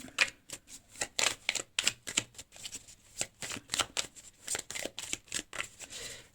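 A deck of cards shuffled by hand before a card is drawn in a reading, making quick, crisp riffling bursts in an irregular rhythm, close and clear with no talk over it.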